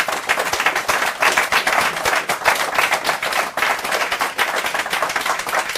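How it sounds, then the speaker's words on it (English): A crowd at a women-in-sport panel event gives the panellists steady, dense applause, many hands clapping together at an even, loud level throughout. "Give them a big round of applause, please."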